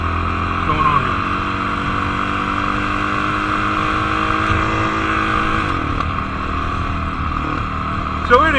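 A 2019 Honda CRF450L motorcycle engine running steadily off-throttle while riding, a loud continuous drone with a slowly falling pitch and wind noise, with talk over it.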